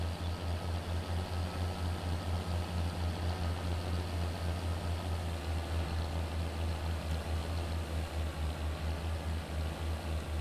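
John Deere 7530 tractor engine idling in Farming Simulator 22, a steady low rumbling drone with even pulsing throughout and nothing else over it.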